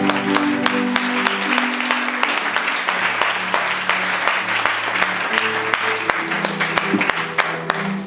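A church congregation claps in steady, rhythmic unison applause, loud and close, sustained over an organ or keyboard playing chords beneath.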